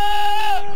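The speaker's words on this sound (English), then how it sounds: "you can hear like the goat's fluctuating in there" A goat gives one short, loud bleat with a strained, wavering pitch that slides slightly before cutting off.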